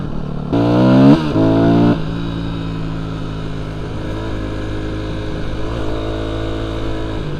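A Yamaha WR250F supermoto motorcycle riding through a canyon, its single-cylinder engine revving hard through a couple of rising gear pulls, then settling into a steady, lower drone with slight surging, loud and close.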